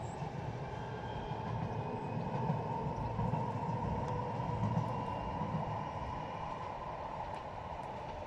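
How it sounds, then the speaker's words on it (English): A tram rolls past near a weir on the River Irwell by Bury Radcliffe Road, a steady rumbling roar of wheels on rails that holds at a fairly even level throughout with no voices. "Oh, tram! It's a tram running across."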